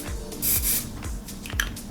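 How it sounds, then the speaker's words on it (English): Hairspray hisses in spray bursts onto a wig, the strongest one early, rising over faint rustling and soft handling noises nearby. "Spray a little bit of hairspray on it."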